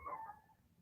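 One short, faint dog yip or bark heard at a distance, fading quickly into quiet room tone.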